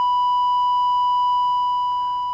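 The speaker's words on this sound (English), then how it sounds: "That's the boring old triangle wave." Steady triangle-wave tone from a single-chip synthesizer's basic oscillator block, holding one pitch continuously and fairly loud with no talking, a faint extra buzz creeping in near the end.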